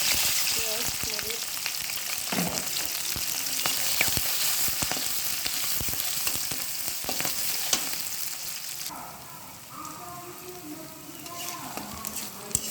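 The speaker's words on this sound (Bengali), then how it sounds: "পেঁয়াজ, মরিচ, মরিচগুলো একটু ভালো করে ভেজে নেব" Chopped onions and green chilies frying in oil in a pan, a bright continuous sizzle with scattered clicks and scrapes of a spatula, easing off somewhat toward the end.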